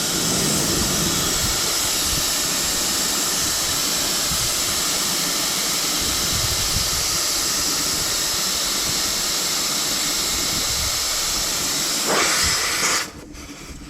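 Air rushes out of a Toyota pickup tire being aired down for off-roading, a loud, steady close hiss that holds for about twelve seconds before a brief surge and sudden drop.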